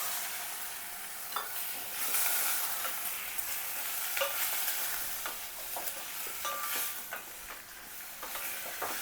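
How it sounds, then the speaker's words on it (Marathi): Mutton frying in a pan with onion, ginger and garlic for Kolhapuri white rassa, a steady close sizzle with scattered stirring scrapes and clicks, no voices. "हे मटण आता त्याच्यात टाकायचं."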